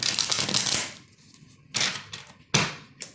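Tarot cards being shuffled by hand, a long riffle followed by a few shorter bursts of flicking and snapping, close up.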